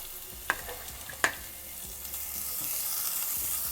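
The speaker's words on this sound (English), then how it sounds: "You fry it a little bit slowly so that all the aromatics from these herbs will ooze into the oil." Chili and ginger fry slowly in shallow oil over medium heat, a faint steady sizzle with a couple of small clinks early on.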